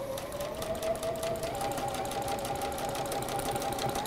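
A sewing machine stitches fabric squares onto the ends of strips in a quilting workshop, its motor whirring in a steady, continuous run with a fast, even needle rhythm, close and alone.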